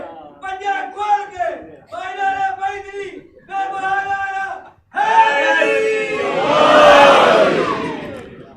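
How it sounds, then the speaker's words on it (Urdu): A large crowd roars a religious slogan in unison, loud and sustained, swelling to a peak before fading, following a voice leading the call at a celebration of the Prophet's mission. "آپ خوب نعرہ حیدری لگائیے، نجف کی طرف توجہ کر کے"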